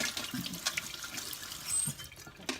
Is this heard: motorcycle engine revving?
no